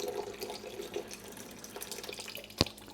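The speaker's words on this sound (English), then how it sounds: "So I'm just gonna lightly siphon all the detritus out." Water gurgles and trickles softly as an aquarium is siphoned to pull detritus from the sand, with a brief sharp splash or slurp near the end.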